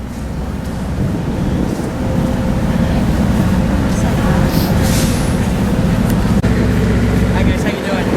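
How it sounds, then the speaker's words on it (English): Steady rumble of the White Pass and Yukon railroad train heard from its caboose while climbing into the mountains, a continuous low roar with wind and faint rattles throughout, and some talk mixed in. "We're riding on the caboose."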